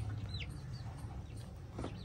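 A hen clucks on a farm among buffalo and other livestock, giving a few short calls close by over a steady low background hum.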